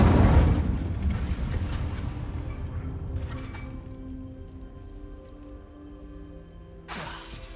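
The Incendio fire spell in Hogwarts Legacy erupts with a loud whooshing blast at the start, then fades into a lingering rumble and tonal ring, with a second burst near the end.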